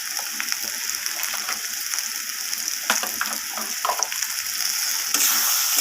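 Colocasia stolons are sautéed with mustard-poppy spice paste in a pan, giving a steady close sizzle and fry hiss with scattered scraping stir strokes, without talk.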